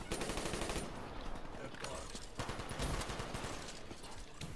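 Galil rifle fire in Black Ops 3 rattles in rapid automatic bursts through the whole stretch, loud and dense with brief gaps, amid other in-game battle noise.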